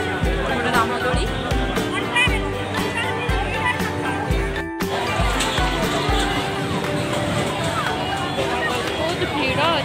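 A dense, lively crowd babbles nonstop, many overlapping voices filling the space close by along with scattered rhythmic thumps and a brief dropout near the middle.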